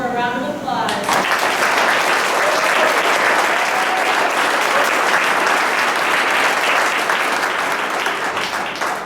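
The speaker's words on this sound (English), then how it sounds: "So let's give these four a round of applause." A banquet audience claps together in a sustained, dense round of applause that starts abruptly and holds loud and steady without fading, after a voice speaks briefly at the start.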